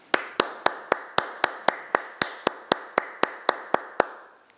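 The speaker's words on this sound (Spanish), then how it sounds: "mi primer aplauso es para vosotros" Steady, evenly spaced claps or taps, about three per second, crisp and close, continuing without voices.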